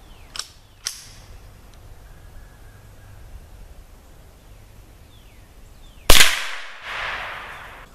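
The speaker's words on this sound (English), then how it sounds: "the first gun we're going to be using is the Ruger 1022, and we're shooting 1 round at the left beer can" A single sharp crack from a Ruger 10/22 .22 rifle firing a CCI Mini-Mag round at a beer can 25 yards away outdoors. It comes loud and sudden after a quiet stretch with a couple of faint clicks, then a brief fading tail.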